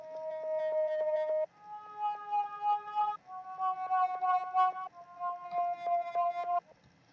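Synth pad in FL Studio processed with the Fruity Love Philter effect, playing sustained chords that shift every second or so in a gated, pulsing rhythm, clear and alone with no talk.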